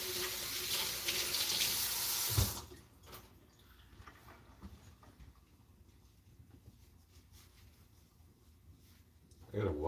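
A tap runs hard into a sink for about two and a half seconds, a loud steady rush of water that cuts off abruptly, then returns briefly at the end, with someone talking in between.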